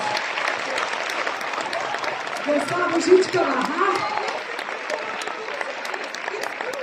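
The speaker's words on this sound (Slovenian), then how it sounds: "En velik aplavz samo za vas, samo za vas." Steady applause and crowd noise from an audience at a Christmas show, continuing throughout with a voice speaking briefly over it in the middle.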